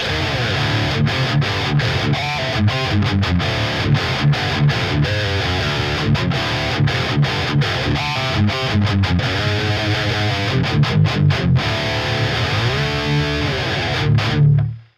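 A heavily distorted electric guitar through a classic British-style amp plugin chugs out a dense rhythm part, playing continuously with crunchy, saturated tone and brief palm-muted stops.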